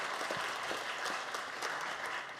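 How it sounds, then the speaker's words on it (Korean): Steady applause from an audience fills a children's parliament ceremony hall, a dense, even wash of clapping that holds throughout at moderate distance. "다시 한번 큰 박수 부탁드리겠습니다."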